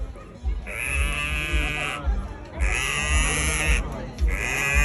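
A voice imitates a sheep, giving two loud, close, drawn-out wavering bleats separated by a brief pause, with steady background murmur beneath.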